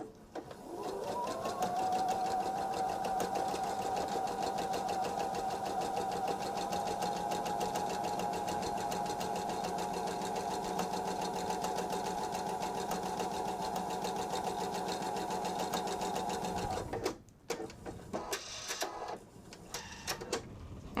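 A sewing machine stitching fabric runs fast and steady for about seventeen seconds, a close, even mechanical whir, then stops and gives way to a few brief clicks and handling noises.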